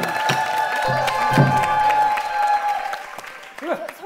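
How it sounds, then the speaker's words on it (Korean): A television talent-show studio audience breaks into loud applause and some cheering, the clapping swelling then fading over about four seconds while a voice and a few musical tones sound beneath it. "큰 박수를 세워보도록 하겠습니다"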